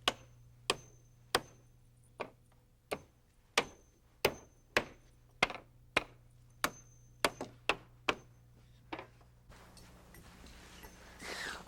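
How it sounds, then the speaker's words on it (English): Steady hammer blows drive 8-penny nails into a wooden stair riser: about fourteen sharp, close strikes in an even rhythm, then a brief rustle of handling at the end, with no talking. "I start at the bottom by nailing on the first riser with 8-penny nails"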